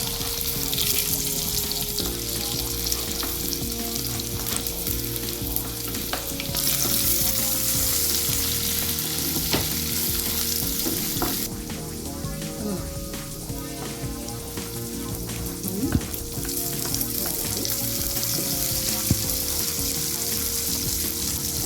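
Ginger and garlic sizzle steadily in hot oil as the base for a fish curry, with a loud continuous frying hiss, occasional stirring scrapes and brief clinks throughout.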